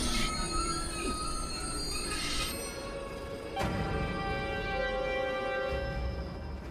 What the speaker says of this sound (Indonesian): Tiba-tiba kereta berhenti dikarenakan jalur mereka terhambat.